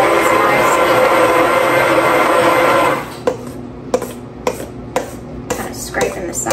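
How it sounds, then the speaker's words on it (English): An immersion blender whirs loudly and continuously through a butternut squash soufflé mixture for about three seconds, then cuts off, leaving a series of sharp knocks and clatters of the blender against the bowl. "just kind of pick your immersion blender up and put it directly on top of those, and it will blend those nicely"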